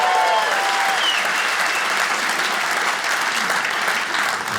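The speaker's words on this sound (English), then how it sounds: "Give me a round of applause, man." A comedy club crowd gives a loud, sustained round of applause for a stand-up comic, a dense wash of clapping that starts strong and tapers slightly toward the end, with a few faint voices mixed in.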